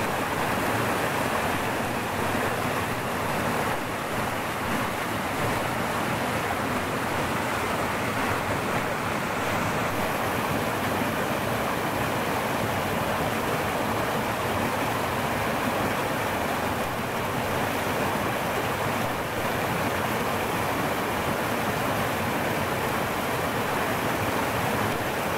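Two fast, high-volume streams swollen after rain rush together at their confluence, a loud, dense and unbroken roar of churning water throughout.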